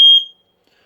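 An RF fire alarm sensor gives one short, loud, piercing beep that stops sharply and leaves near silence after.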